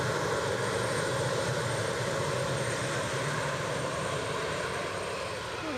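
A KLM airliner taxis on the ground at an Edinburgh airport, its engines giving a constant loud broadband roar with a high whine, steady throughout and no talk.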